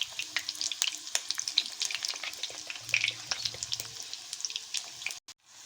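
Bora fritters made with fresh green chillies frying in oil in an iron wok, a steady close sizzle and crackle with scraping stirs, no talk, ending in a brief dropout.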